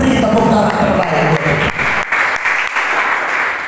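A church congregation applauds during a sermon, a dense, loud burst of clapping that keeps going through the short stretch with slight swells and dips.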